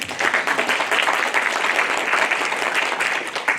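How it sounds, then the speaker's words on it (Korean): An audience at an academic conference applauds to welcome a panelist, with dense, steady clapping from many hands that stays loud and even throughout. "이건 박수로서 환영해 주시기 바랍니다."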